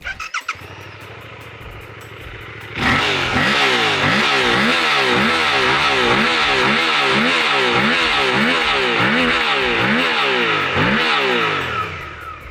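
A Suzuki GSX-8R motorcycle engine idles, then revs sharply, its exhaust rising and falling in a long series of loud, repeated throttle blips before settling.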